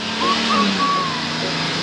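A lorry sits close by with its engine rumbling low and a few reversing beeps chirping over it, loud and steady.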